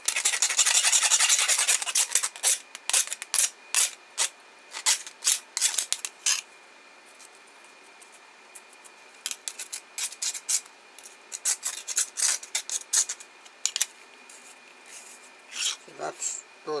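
Short, rasping scrapes come from a scraper edge working a 3D-printed part for a Creality Ender 5 Plus, some bursts grouped and some spaced, close and crisp, with a quiet stretch in the middle.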